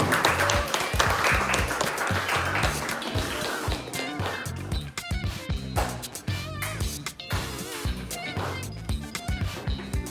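Applause at a cubing competition award ceremony in Lviv, a crowd clapping loudly and continuously, with scattered louder claps and a few voices mixed in.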